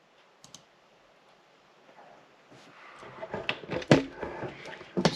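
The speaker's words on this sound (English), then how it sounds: "We're gonna click it now." A few sharp clicks on a computer button or mouse, with keyboard-like tapping that grows busier and louder toward the end over faint background noise.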